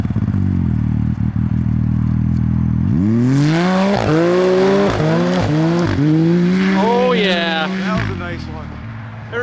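A BRP snowmobile engine roars close up in the snow, revving hard through repeated rising and falling pulls, with people shouting over it.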